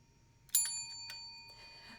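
A bicycle-style bell gives a single bright ring that stands out clearly, followed by a couple of softer metallic tings that fade into near silence.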